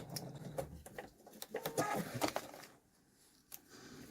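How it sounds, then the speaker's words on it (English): A sewing machine back stitching the end of a quilt block seam, quiet rapid mechanical stitching bursts of whirring and clicking, then a pause and a brief final clack. "And then I'll back stitch at the end too."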